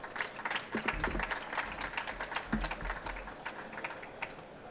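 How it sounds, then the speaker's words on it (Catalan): A crowd at an awards ceremony claps, a busy crackle of many hands that swells briefly and then thins out, with a faint low hum beneath. "Doncs moltes gràcies, un aplaudiment per ells."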